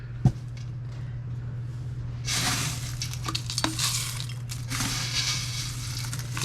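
Dried onions being packed into glass jars, with soft glassy clinks and rustling scrapes of the dry pieces, close and moderately loud over a steady low hum, no talking.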